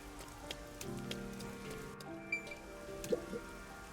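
Rain patters steadily on surfaces in the video game Master Detective Archives: Rain Code, with scattered drips and a faint tonal background of game music and effects, moderately quiet and without speech.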